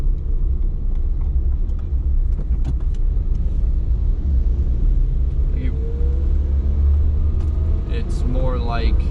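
A tiny car drives through city traffic at low speed, its engine and road rumble steady and loud from inside the cabin, with a passing vehicle's rising whine near the end and someone talking over it.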